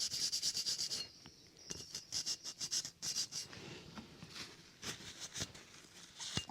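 A Scotch-Brite pad rubbed over a rusty old tool after rust remover treatment, close, quiet scratchy rubbing strokes in an uneven rhythm with short pauses, no voices.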